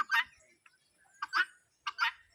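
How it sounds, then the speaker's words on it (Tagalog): Guinea fowl on a farm in Laguna, giving three harsh, two-part calls spaced evenly apart, close and clear with no talking. "Mayroon tayong bingala."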